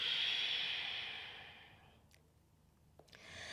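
A long, soft exhale during an evening yoga flow, a breathy hiss that starts full and slowly fades to quiet, with a couple of faint clicks near the end and no talking.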